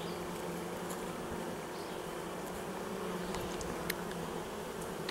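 Honeybees buzz steadily around a hive comb holding the queen, a faint, even, continuous drone with no pauses and no talk.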